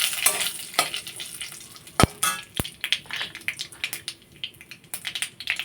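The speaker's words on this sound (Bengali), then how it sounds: "ফোড়নে দিয়ে দিচ্ছি সর্ষে আর মেথি। দিয়ে দিচ্ছি দুটো তেজপাতা" Mustard seeds, fenugreek and two bay leaves crackle and sizzle in hot oil in a pan, with a steady frying hiss broken by sharp pops and occasional metal clinks of a spoon, close and fairly loud.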